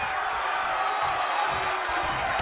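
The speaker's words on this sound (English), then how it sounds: "With every move you make, you hear this capacity crowd following you on that journey." A capacity arena crowd in the WWE 2K20 wrestling video game during an NXT tag team match, giving a steady, dense roar of cheering that fills the whole short stretch at high volume.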